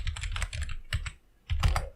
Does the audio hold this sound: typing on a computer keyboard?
yes